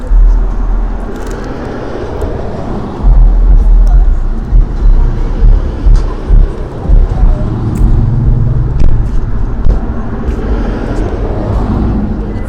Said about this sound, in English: I'm pretty close to a road with a lot of cars and it's kind of busy right now.